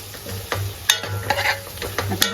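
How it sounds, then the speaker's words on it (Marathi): Potatoes sizzle in spice masala in a hot pan while a spoon scrapes and stirs, with irregular clinks against the metal over the steady frying hiss. "आणि बटाटे पण परतून घ्यायचेत मसाल्यात"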